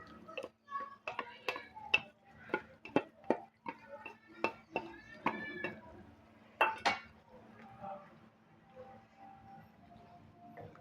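A spoon scrapes and clinks against a pot while gram flour batter is stirred briskly over low heat, giving irregular sharp ticks in quick bursts, close and moderately loud, fading to sparse light taps.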